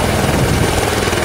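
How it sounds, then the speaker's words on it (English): Dense, steady rotor thump and engine roar of a Winnipeg Police helicopter, loud and close, with no break. "Winnipeg Police unveiled their new helicopter Monday at Canadian Forces Base Winnipeg"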